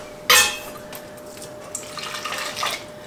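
Hot salt brine being ladled for pickled asparagus, a sharp metallic clink and splash at the start followed by softer pouring and trickling of liquid, close and brief.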